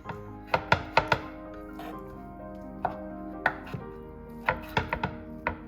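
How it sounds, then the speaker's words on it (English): Porcini mushrooms are chopped with a knife on a board for a pumpkin and sausage risotto, giving quick close thunks in short irregular bursts with brief pauses between them. "We don't want big chunks of porcini in our risotto, so we just chop up the porcini."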